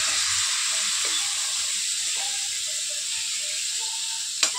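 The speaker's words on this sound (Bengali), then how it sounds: "এবার আমি মাছগুলোকে কড়াইয়ের মধ্যে দিয়ে দেবো" Khoira hilsa fish dropped into a hot wok in a home kitchen, giving a steady, close frying sizzle and hiss that holds evenly throughout, with a brief clatter near the end.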